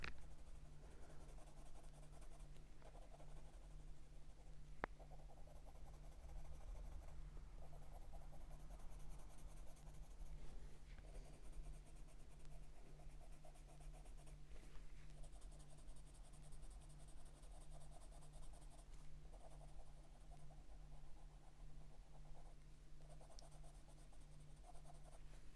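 Van Bleiswijck colored pencil shading over paper with green, a steady, faint, continuous scratchy rubbing close up, with a low background hum throughout and no talking.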